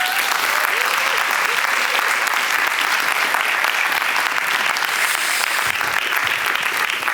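Sustained applause from a conference audience welcoming the next speaker, a dense, steady wash of many hands clapping at even loudness throughout, with no voices.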